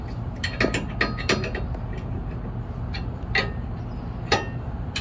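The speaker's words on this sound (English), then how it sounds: "This uses a 3/4 inch wrench." A 3/4 inch wrench tightens a bolt on a TEMCo Industrial TA2520 hitch step, giving irregular metallic ratcheting clicks and clinks in short bursts over a low background hum, fairly close and without talk.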